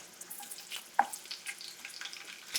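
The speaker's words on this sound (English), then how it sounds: "You're just going to saute it for a little bit." Garlic and hot pepper slices sauté in hot oil with a soft, steady sizzle and faint crackles, plus an occasional louder pop, quiet and close.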